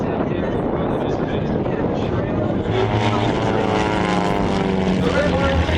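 Light RV aircraft flying at the Oshkosh airshow give off a steady, loud propeller-engine drone that holds for the whole stretch, with a clear engine tone rising near the end and an announcer talking over it.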